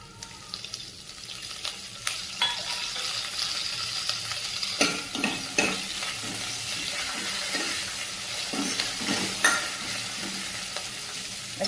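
Grated ginger and curry leaves fry in oil, a soft continuous sizzle under repeated scraping stirs and occasional clinks, quiet and close with no speech.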